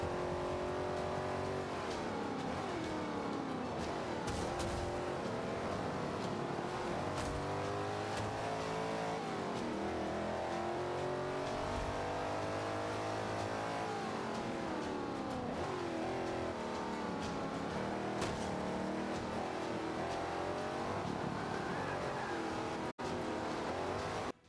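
A modern muscle car engine roars and revs continuously through a video game race, with rising and falling pitch through gear changes, occasional tire squeal, loud and steady throughout with no talking.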